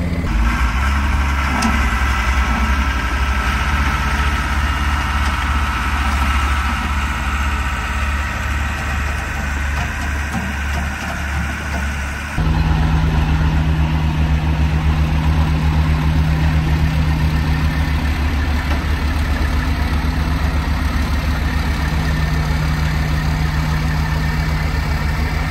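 A dozer's heavy diesel engine works close by on a muddy site while pulling a stuck truck backwards. The engine drones and rumbles continuously, and its pitch shifts partway through as the load changes.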